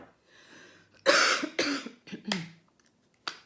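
Several harsh coughs close by, a burst of two or three followed by a couple of shorter, sharper ones after brief pauses.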